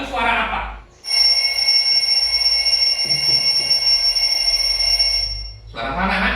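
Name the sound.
alarm clock ringing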